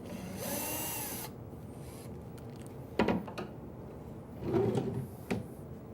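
A power driver backs a screw out of a cabinet drawer slide with a short whir, followed by faint clicks and knocks of the drawer hardware in a quiet workshop.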